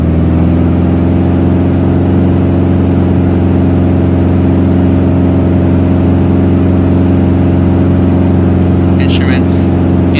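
A Beechcraft Bonanza's piston engine run up to full power in a flight simulator, held on the brakes, gives a loud, steady, unbroken drone with a strong hum that lasts throughout.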